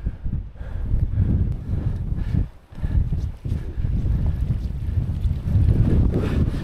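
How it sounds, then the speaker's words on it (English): Wind buffeting hard on a high mountain ridge in the Helvellyn range of the Lake District, a continuous low rushing roar with heavy microphone rumble that dips briefly before surging back up. "It was getting windy"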